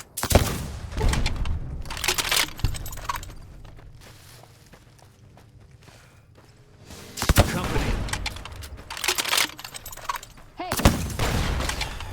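Heavy gunfire from a bigger gun in Fallout New Vegas comes in loud bursts of rapid shots, with a quieter stretch in the middle carrying faint thuds before the shooting resumes.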